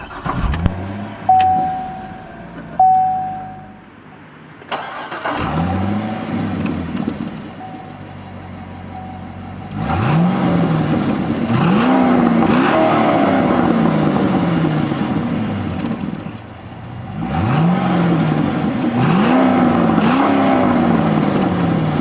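A 2007 Chevrolet Corvette with a 6.2 liter V8 and six-speed automatic transmission: a few brief chimes, then the engine cranks and fires, settles into a loud idle and gives several sharp rising revs close by.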